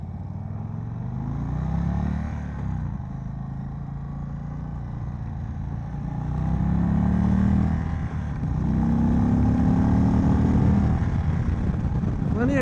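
A 2022 Indian Chief motorcycle cruising at high speed through sweeping bends, its engine droning steadily with a low rumble under rushing wind, swelling slightly louder toward the end.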